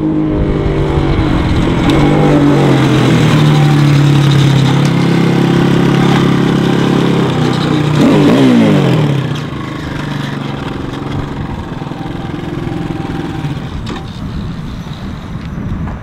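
A motorcycle engine roars loudly through a race lap, holding a strong steady drone with pitch sweeps before dropping to a lower, quieter running note near the end.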